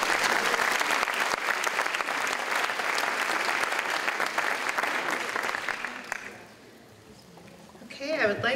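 Audience at a senior awards night giving a sustained round of applause that fills most of the stretch, then fades out, followed by a brief lull and a voice starting to speak.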